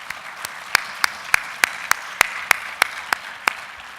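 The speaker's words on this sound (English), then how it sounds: "So can we please have a round of applause and appreciation for our sponsors?" Audience applause for event sponsors at the opening of a 2013 cyber security symposium, heard as a sparse run of about a dozen distinct claps at a steady rhythm, fairly close, with no talk over them.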